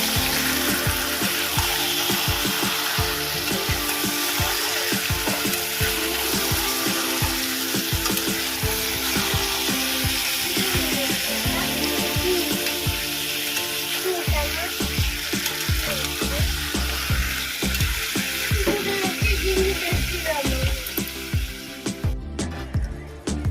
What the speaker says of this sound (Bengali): আমি এবার চিকেনগুলো দিয়ে দেবো একটু ভালো করে কষিয়ে নিই